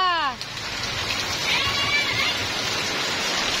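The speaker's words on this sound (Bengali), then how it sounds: "আসলে বৃষ্টিতে ভিজে আলাদা একটা অনুভূতি" Steady rain falls and patters on surfaces throughout, a continuous wash of drops, with a person's voice briefly heard at the start.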